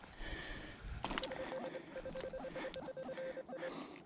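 A metal detector sounds a repeated high electronic beep while sweeping a field for coins and relics, a string of short, evenly spaced tones over faint background noise.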